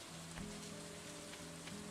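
Steady rainfall in the farming game Stardew Valley, a constant soft patter of drops on the ground with a low musical tone running underneath, no voices.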